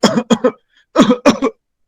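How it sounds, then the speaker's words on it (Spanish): A person coughs in two short bursts of about three harsh, close coughs each, separated by a brief pause, with nothing else heard. "En cambio, la tos es más constante."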